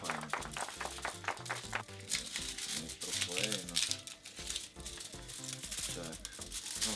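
Sealed foil wrapper of a chocolate bar crinkles and rustles steadily and up close, with a person talking over the handling throughout.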